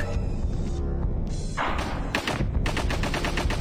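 Rapid gunfire from the video game Alisa, a dense run of loud shots and thuds during a shootout, with bursts tightening into fast repeated reports toward the end.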